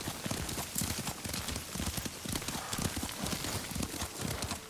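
Horse hooves clip-clop in a steady rhythmic gait during a ride in Ghost of Tsushima, close and clear, with a faint whinny and soft ambient rain-like hiss beneath.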